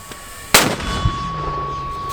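A Soviet 120 mm PM-38 mortar of 1930s–40s vintage fires a single sharp, loud blast on the Bakhmut front, followed by a ringing metallic tone and a short echoing tail.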